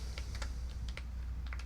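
Typing on a computer keyboard while writing code in Visual Studio: quick clusters of light, close key clicks in an irregular rhythm over a low room hum, no voices.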